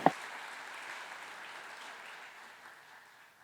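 An audience at a university academic-year kick-off award ceremony breaks into applause, a sharp first clap followed by steady, moderately quiet clapping that slowly tapers over a few seconds.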